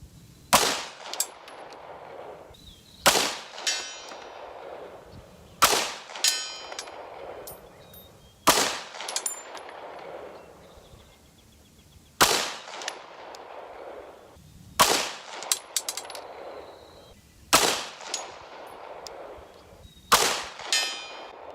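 Eight Beretta M9A4 pistol shots with 147-grain rounds, fired at a steel target at 100 yards, each a sharp crack followed by a ringing clang, evenly spaced about three seconds apart.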